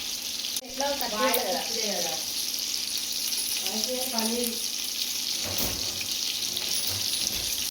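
Chicken sizzles loudly and continuously in a pan for Hyderabadi chicken biryani, with spoon-stirring scrapes and a voice speaking briefly over the frying.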